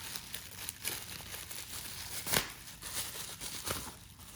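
A plastic bag crinkles and rustles in close, irregular bursts with one sharper crackle midway, while a Cold Steel Master Tanto San Mai knife is worked out of its packaging.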